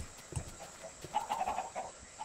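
Chickens in Minecraft, a few short clucks and squawky calls scattered over a couple of seconds, fairly close and moderately loud, with no speech.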